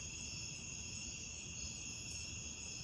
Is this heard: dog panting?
no